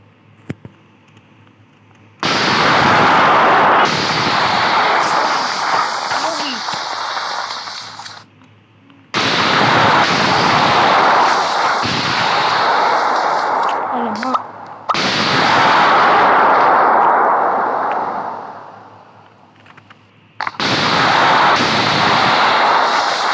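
Loud blasts of cartoonish bomb explosions in the block-building game Mini World, four long roaring bursts separated by short quiet gaps, each one sustained and broadband, heard alone without talk.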